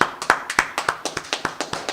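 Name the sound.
people clapping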